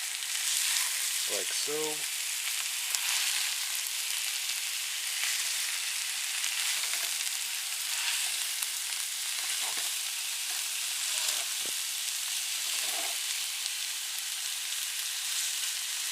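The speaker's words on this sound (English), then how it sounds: "Now that you have the chorizo in there, take your wooden spoon, break it up" Chorizo sizzles in a pan as a wooden spoon breaks it up, a loud, continuous frying hiss with occasional scrapes and a brief spoken remark early on.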